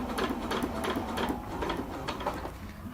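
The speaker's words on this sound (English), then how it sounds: "A couple stitches to get going. Back stitch." Sewing machine stitching a half-inch seam on a cold-weather hammock underquilt, a steady close whirring run of rapid needle strokes with small rhythmic pulses and no pauses.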